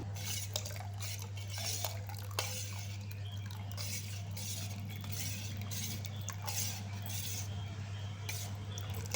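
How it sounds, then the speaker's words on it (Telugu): Boiled and cooled milk is poured into a carrot and sago payasam sweetened with jaggery. It sounds like soft liquid trickles with small clinks of a metal pot, heard close and quiet over a steady low hum, with no talking. "దీంట్లోకి కాచి చల్లార్చుకున్న పాలను అయితే వేసుకుంటున్నాను"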